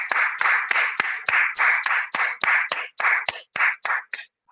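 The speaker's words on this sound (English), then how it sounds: "Let's give him a clap, please." An audience claps for a speaker at a Toastmasters club training session, a steady run of sharp, evenly spaced claps close by that lasts several seconds and thins out at the end.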